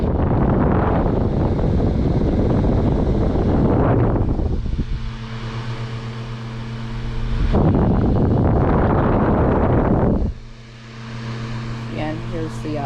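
A 1989 green and white Air Duracraft Turbo Fan runs on high speed, a loud, steady rushing whoosh of moving air with a low motor hum that swells and eases as someone talks over it.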